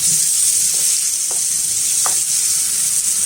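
Garlic paste frying with browned onions in a pan for a fish curry, an even, bright sizzle up close with a couple of faint spatula scrapes, no voices.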